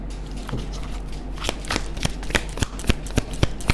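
Tarot cards being shuffled by hand at close range, a run of crisp riffling flicks and slaps that grow sharper and more rhythmic toward the end, with no talking.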